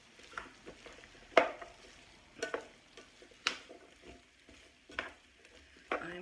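Farm-fresh sliced vegetables are stirred in a skillet, with intermittent scrapes and clinks of a utensil against the pan over a low, faint sizzle, close and unhurried.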